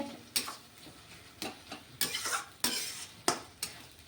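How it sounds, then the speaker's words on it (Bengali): Ivy gourd (kundri) frying in oil in a wok, stirred with a spatula: a steady sizzle broken by repeated scraping strokes about every half second, close and moderately loud, with no talking. "এইখানে আস্তে আস্তে একটু নাড়বেন"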